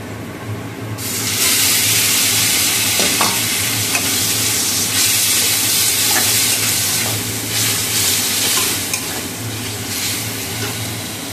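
Potatoes and carrots fry with onion in a pan, starting with a sudden, loud burst of sizzle that holds as a dense, constant hiss, with occasional stirring scrapes throughout.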